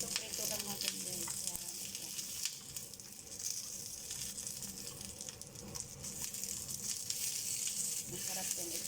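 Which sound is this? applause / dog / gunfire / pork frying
pork frying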